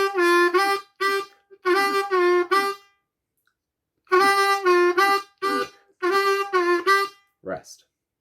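A blues harmonica plays a short two-bar phrase twice in a row, clear and up close, in bursts of held and choppy notes separated by brief rests, ending with a quick rising slide.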